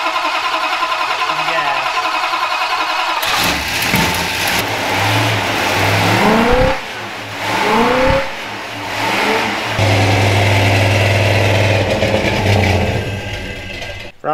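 A Dodge Coronet's engine starts and runs on a newly fitted carburetor, a steady loud rumble with several revs rising and falling, then settling into a rough idle close by.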